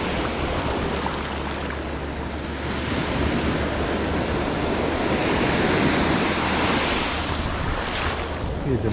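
Ocean surf rolls onto the beach at Cape Canaveral, a steady broadband wash of breaking waves with wind rumble on the microphone, continuous and fairly loud, swelling slightly near the end with no talking.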